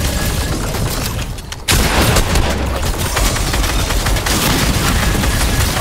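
Rapid sustained minigun fire in a Fortnite trio cash cup endgame, a dense loud continuous roar of shots that briefly dips then surges back and keeps hammering to the end.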